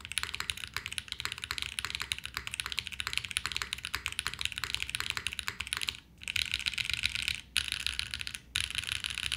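A KBDFan KBD8X mechanical keyboard being typed on steadily, a dense, close run of clicky keystrokes with brief pauses, no talking.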